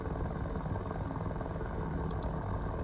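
An AH-6J Little Bird helicopter in the DCS flight simulator, a steady low rotor and turbine drone heard from inside, constant and fairly quiet with no talk.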